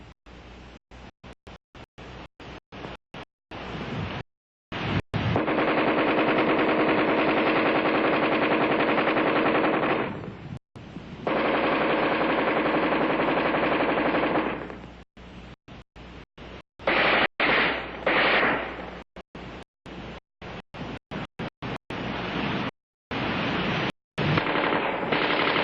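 An Armalite AR-10 rifle fired offhand at a man-sized target at combat range: loud, close, long sustained bursts of automatic fire, stopping and restarting with quick, choppy strings of shots between the bursts.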